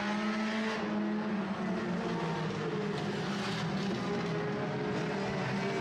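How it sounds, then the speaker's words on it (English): Sport compact race cars run three wide down the back straight at El Paso County Raceway, engines droning steadily at a distance with sustained harmonic tones and no break. "They're going to be three wide down the back straight."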